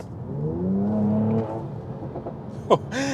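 A Mercedes-AMG C43 in Sport Plus mode with the AMG performance exhaust idles and is briefly revved, a short sharp blip near the end rising over a steady engine hum, with a voice talking over it at the start.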